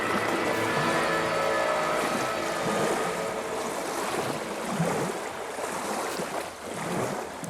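Ocean waves open an album track, a broad steady wash of surf and rushing water that swells and recedes, with faint tonal music threads beneath; no one talks.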